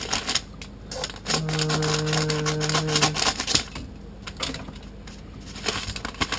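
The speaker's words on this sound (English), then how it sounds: "I'm just going to cut this open." A package containing a UPS for a Raspberry Pi is cut open, with rapid scratchy slicing and crinkling of packaging close by, broken by a short sustained tonal hum partway through.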